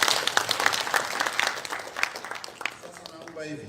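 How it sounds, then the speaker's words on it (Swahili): Audience applause rings out at a Luo community meeting in Mombasa: dense, close clapping fills the first few seconds, then thins and fades as a voice begins speaking over the tail end. "Makofi mazuri bwana."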